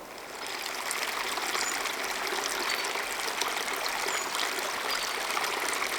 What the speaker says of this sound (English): Kind of an interesting little rock formation with water flowing down it.